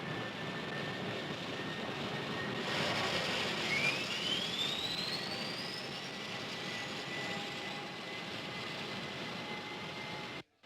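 Steady jet airliner engine roar at cruise altitude, a radio drama effect for a flight to Seattle, with a faint rising whine sweeping upward partway through, continuous and loud until it cuts off at the end.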